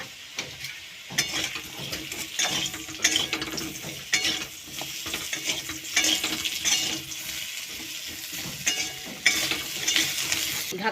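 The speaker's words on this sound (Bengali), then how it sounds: "এইবার আমগুলো একটু দিয়ে ভেজে নেব" Mango pieces fry in oil in a pan for a fish curry, a steady hiss and crackle broken by repeated scraping and clinking of a spatula stirring against the metal, close and busy throughout.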